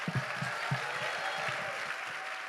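Audience applause for a writer and director at a Tyler Perry Studios event, a steady wash of clapping with scattered sharp individual claps, moderately loud and continuous for the whole stretch.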